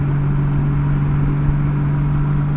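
A motorcycle cruising in fifth gear at higher RPM, a steady droning engine hum with a strong constant tone and wind rush, loud and unchanging throughout with no speech.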